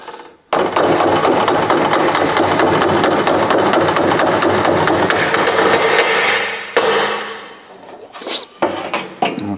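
A hammer works a crease out of a steel front apron with fast, loud, ringing metal strikes close by for about six seconds, then tapers into a few scattered, quieter knocks.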